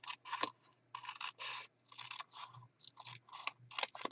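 Scissors snipping through paper ephemera, heard as a string of short, close, crisp cuts in an uneven rhythm with brief pauses between them, no talking.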